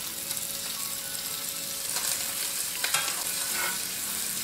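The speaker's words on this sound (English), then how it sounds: "Now that it's seared, I can go ahead and add butter." Butter sizzles steadily around a freshly seared chuck eye steak in a hot pan, a continuous close hiss that swells briefly as the meat is moved and stirred.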